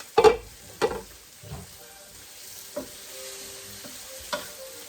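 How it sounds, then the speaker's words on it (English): Vegetables with red pepper sauté in a pan, several loud scraping stirs near the start giving way to a quieter steady sizzle with occasional utensil knocks, nobody talking. "our veggies are over here sauteing nicely"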